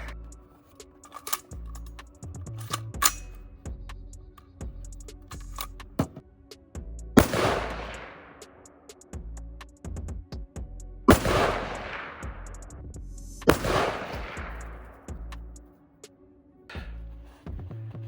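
Three loud, sharp rifle shots from an Aero Precision AR build at an outdoor range, spaced a few seconds apart, each with a long decaying echo tail, amid low background handling noise.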